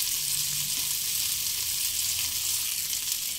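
Fish tikka frying in mustard oil in a pan, a steady close crackling sizzle that holds evenly throughout with no voices.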